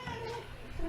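A hungry, big-boned house cat meows in one drawn-out, wavering call lasting about a second, close and fairly loud.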